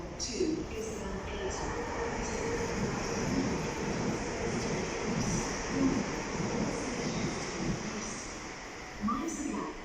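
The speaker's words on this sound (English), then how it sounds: "We've got a London Overground service stopping here." A London Overground train arrives at Wembley Central station with a loud, continuous rumble and rolling wheel noise, near and steady throughout, with voices faintly mixed in.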